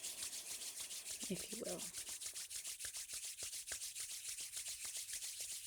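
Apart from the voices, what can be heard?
hands rubbing together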